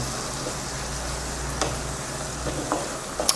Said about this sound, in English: I can get the smell as she's sauteing it.